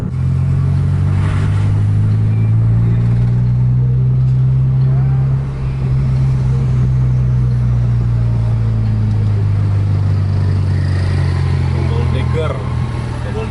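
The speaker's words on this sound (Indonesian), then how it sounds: "Ini double decker panoramik yang chassisnya Mercedes-Benz 2542 Ecolite" A Mercedes-Benz 2542 Ecolite panoramic double-decker bus drives past with a loud, steady diesel engine drone and a deep low hum, the roar holding strong from start to finish.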